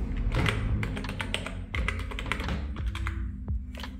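A password is tapped out on a Mac keyboard, a quick run of close, crisp keystrokes with short pauses between bursts.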